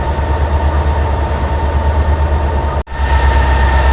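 Janmabhoomi Superfast Express on the Lingampalli to Visakhapatnam run rumbles alongside a platform, a steady heavy low drone of rail noise and engine with a brief dropout near the end, no talking.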